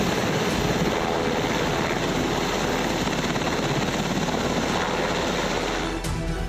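US Air Force Black Hawk helicopters flying during a search operation, a loud, steady, dense rotor roar that continues unbroken throughout, close and with no voices over it.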